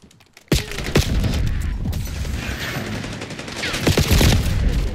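Bursts of assault rifle fire in Call of Duty: Black Ops 6 multiplayer, loud sustained volleys with scattered sharp shots and thuds, no talking.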